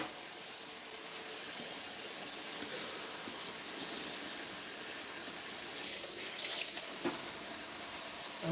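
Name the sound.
water filling up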